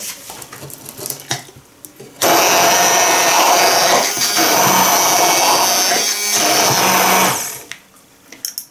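An 800 W Moulinex QuickChef DD650 hand blender runs at speed two for about five seconds, a loud steady motor whine with a dip in the middle, framed by quieter handling noises before and after.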